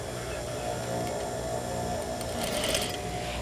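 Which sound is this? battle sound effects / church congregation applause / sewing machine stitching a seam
sewing machine stitching a seam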